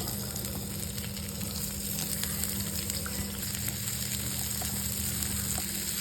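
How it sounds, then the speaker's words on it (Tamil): Sliced onions fry in oil in a pan for chana masala, a soft, even sizzle heard close and continuous, with no voices. "வெங்காயம் நல்லா வதங்கி வரட்டும்ப்பா"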